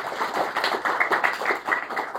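A church congregation claps together during a sermon, a fairly quiet, slightly uneven run of sharp hand claps that carries on steadily without talk.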